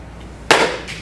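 A baseball bat strikes balls during a tap drill at a ballyard: one sharp, loud crack, followed moments later by a softer second hit, with no talking.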